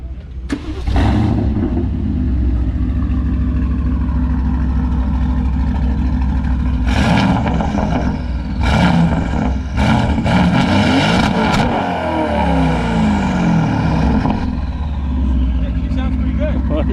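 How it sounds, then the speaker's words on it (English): An Aston Martin Vantage cranks and fires up close by, settles into a loud idle, then is blipped through several sharp revs in quick succession before dropping back to a rumbling idle. "She's loud. I'll start her up for you."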